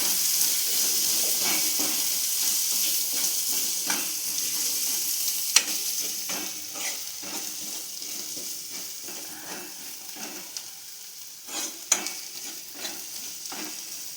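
Egg puff stuffing with coriander is stirred in a hot frying pan, a constant close sizzle with rhythmic spatula scrapes and a couple of sharp metallic knocks, no voices.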